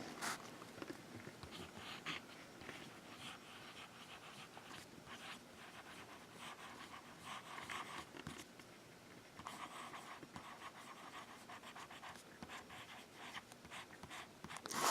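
A Faber-Castell Loom fountain pen with a broad, wet nib scratches softly across Rhodia paper, quiet continuous scritching strokes close to the microphone with faint rustles.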